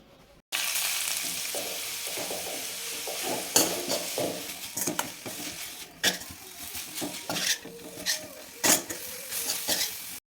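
An ingredient sizzles steadily as it is fried and stirred in a kadai for a home sweet recipe, with frequent scraping and clinking of the spoon against the pan, close and loud, with no talking.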